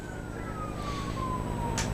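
Emergency vehicle sirens wail from far across the way at a high school baseball game, a faint steady tone sliding slowly downward over continuous background rumble and crowd ambience.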